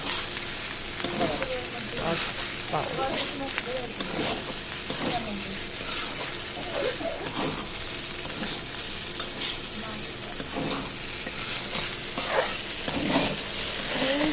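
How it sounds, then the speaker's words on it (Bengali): Cooked pasta being stirred in a pan, with a steady sizzle under repeated scraping and stirring strokes at close range; a voice is faintly present at times. "এই যে দেখুন আবার এটা ভালোভাবে নেড়ে নেব।"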